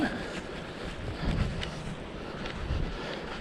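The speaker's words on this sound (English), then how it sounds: "Hopefully the wind has abated a wee bit." Gusty wind buffets the microphone on a coastal path along the Moray coast, rumbling and swelling in waves of low noise, with no voices.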